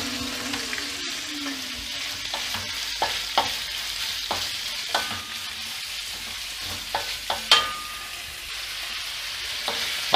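Lamb kavurma sizzles steadily in a pan, a constant hissing bed of frying broken by occasional clacks of a utensil stirring the meat, close and clear with no talking.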